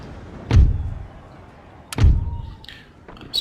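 Artillery firing in the Empire Total War battle game, two heavy booming thuds about a second and a half apart, each with a short rumbling tail, followed by fainter clatter, with no talking.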